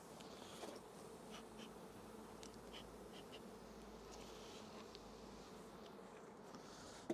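A big honeybee swarm hums in a continuous, low, fairly faint buzz as the bees are gently swept off hive frames with a bee brush, with a small knock at the end.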